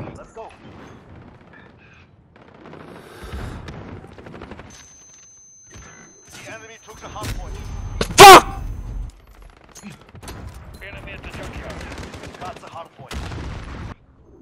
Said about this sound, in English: I pulled out my pistol to sniper duel.